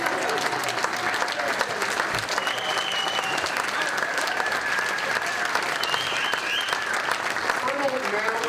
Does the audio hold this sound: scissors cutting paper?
no